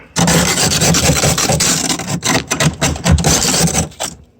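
Jammed ice is scraped and chopped out of the ice maker of a Samsung RF23HCEDBSR refrigerator with a loud, close, harsh rasping that runs almost continuously and breaks into choppy strokes near the end.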